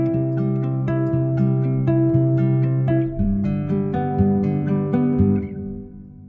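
Plucked guitar from a Spitfire Audio signature sample library, played with added dark reverb: a steady run of picked notes and chords that rings on, then decays into a reverb tail at the end, with no talking.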